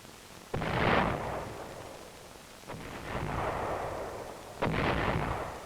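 Three deep booming artillery rounds from a military training film about the Davy Crockett weapon, each a sharp crack followed by a long rolling rumble, spaced a couple of seconds apart.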